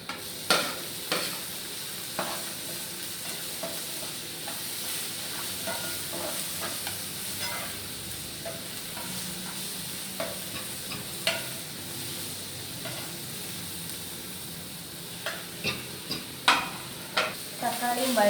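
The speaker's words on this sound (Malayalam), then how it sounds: "തക്കാളിയും വഴറ്റി കിട്ടിയിട്ടുണ്ട്." Chopped tomatoes and spices sizzle and fry in a pan while being stirred, a steady soft hiss broken by frequent sharp scraping clicks of the spoon against the pan, close and fairly quiet, with no talk.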